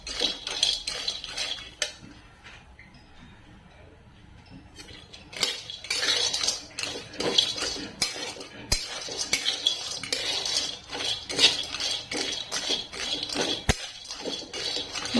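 Dried dates powder stirred and roasted in a metal kadhai over a low gas flame, with steady scraping and clinking of a spoon against the pan, quieter at first, then busier and louder, with a few sharp knocks.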